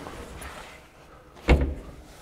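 A trap door on an Alu-Cab canopy camper fitted to a VW Amarok swings shut with a single firm thud near the end of the clip, preceded by quiet handling noise.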